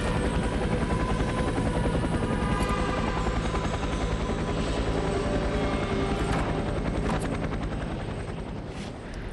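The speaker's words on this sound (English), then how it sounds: "Get to the chopper." Helicopter in the F.E.A.R. 3 video game, a loud steady rotor thump and engine drone holding throughout at close range with no voices.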